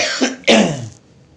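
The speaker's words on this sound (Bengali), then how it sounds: "এত কাশছি না" A person gives two rough, close coughs, a short one and then a louder, harsher one, trailing off into quiet room sound.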